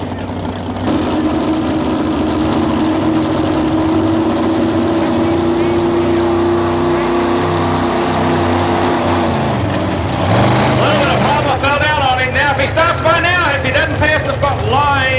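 A Chevrolet pulling truck from Virginia roars at a 1987 truck pull in Raleigh, its engine droning steadily and then surging with rising, wavering revs, while an announcer talks over it throughout.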